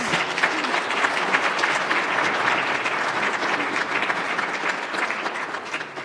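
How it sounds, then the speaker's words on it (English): An audience at a lecture introduction gives a round of applause, dense, even clapping held steadily for about six seconds with no talk over it. "a round of applause"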